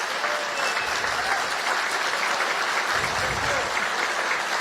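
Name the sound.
audience applause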